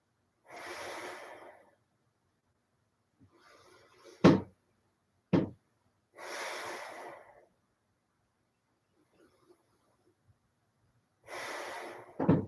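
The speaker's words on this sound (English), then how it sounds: "We'll take 5 big deep breaths here." Deep breathing during chair yoga, slow audible inhales and exhales repeating in a steady rhythm, close and fairly quiet, with a few sharp knocks between breaths.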